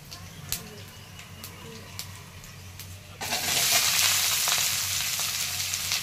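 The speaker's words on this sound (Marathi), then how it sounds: "कढीपत्ता, कोथिंबीर, लसूण आणि जिरे तेलामध्ये टाकून घेतलेलं आहे." Curry leaves, coriander, garlic and cumin hit hot oil, and a loud, steady sizzle starts abruptly partway through after a quieter stretch of faint kitchen noise and light clinks.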